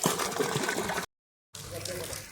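Water gushing from an electric motor pump as it fills a home water tank, a steady broadband rushing that cuts out briefly and resumes, with a voice faintly mixed in.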